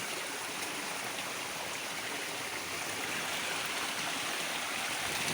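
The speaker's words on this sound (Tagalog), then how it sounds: "malakas ng daloy ng tubig" Strong water rushes steadily and loudly, a constant broadband roar of a fast-flowing stream with no pauses.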